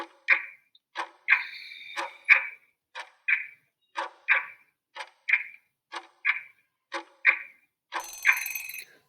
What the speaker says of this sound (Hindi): टाइमर आपका स्टार्ट हो जाएगा।